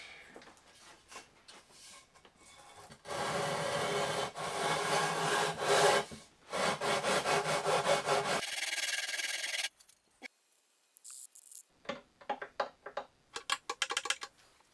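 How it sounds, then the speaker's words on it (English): Stainless steel guitar frets being leveled with an aluminium leveling bar, a close, steady back-and-forth rasping and sanding scrape in sustained strokes, then shorter intermittent rubs after a brief pause. "I'm going to have to level them using my cheap aluminium leveling bar that I got from a hardware store."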